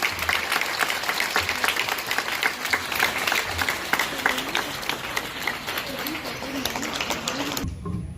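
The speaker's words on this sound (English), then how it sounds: "Huge round of applause, please." Sustained applause from an audience at a school investiture ceremony fills the hall, with dense, steady clapping that continues for several seconds before cutting off abruptly near the end.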